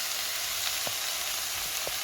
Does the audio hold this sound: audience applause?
no